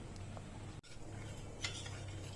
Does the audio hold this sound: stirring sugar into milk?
yes